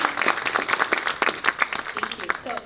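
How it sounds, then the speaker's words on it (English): Recital audience claps for young music performers, a short burst of dense applause with a few voices and cheers mixed in. "And so they all deserve just such a huge round of applause"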